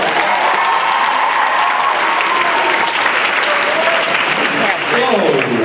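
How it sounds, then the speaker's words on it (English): Loud, sustained audience applause following a stage act, a dense wash of many hands clapping steadily throughout with a faint murmur of crowd voices mixed in. "Let's give another round of applause."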